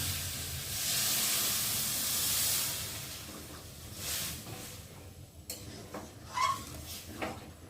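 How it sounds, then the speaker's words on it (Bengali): Water poured into a pan of sautéed vegetable masala gives a loud burst of hissing steam that fades over a few seconds, followed by light ticks and clatters, with no talk. "আর এখন আমি জল দিয়ে দেবো।"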